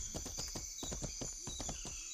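Jungle horses in a video game trotting with steady clip-clop hoofbeats, a brisk rhythmic run of thuds over a high ambient hum, fairly close and clear.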